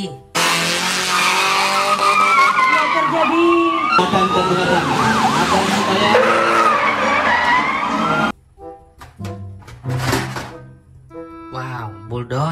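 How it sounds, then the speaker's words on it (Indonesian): A toy police car plays a loud electronic wailing siren with skidding effects for about eight seconds, then stops, and a person talks briefly in the quiet that follows. "mobil polisi"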